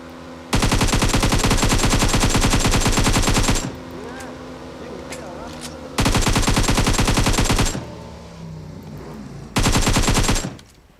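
Rapid automatic gunfire in PUBG Mobile, loud and close, arriving in three sustained bursts separated by short pauses filled with faint background game noise.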